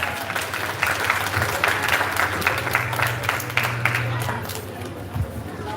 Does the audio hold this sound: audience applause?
yes